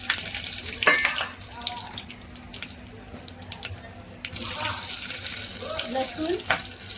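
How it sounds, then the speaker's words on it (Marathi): Bay leaf and whole spices fry in a mix of oil and ghee, giving a soft, crackly sizzle close by, with scattered clinks and stirring sounds; someone speaks over it. "चमच तेल आणि एक चमच तूप टाकूया। आता तेजपत्ता घालूया, खडे मसाले घालूया,"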